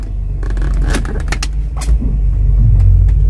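A Nissan X-Trail shifted into reverse and rolling away, a steady low engine rumble with a few clicks and knocks from the gear change over the top.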